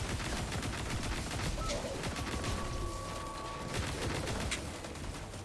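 Sustained automatic weapon fire from the shooter game Destiny 2 rattles steadily at moderate loudness, continuous clattering shots over a busy game soundscape.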